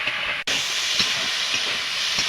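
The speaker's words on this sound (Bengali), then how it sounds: "এটা আমি নাড়াচাড়া করে ভালো করে ভেজে নেব।" Cauliflower frying in a pan with turmeric and salt, a loud, steady sizzling hiss with faint periodic scraping or stirring taps, heard up close with no voices.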